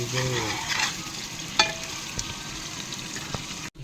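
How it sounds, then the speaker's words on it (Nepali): Onions fry in oil for chicken biryani with a close, moderate sizzle and a few sharp utensil knocks against the pot; the sound cuts off abruptly near the end. "प्याज पाक्दैछ साथीहरू"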